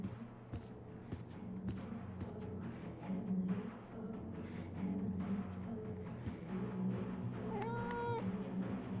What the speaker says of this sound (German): Weil anders kriegt man diese komische Katze ja nicht weg.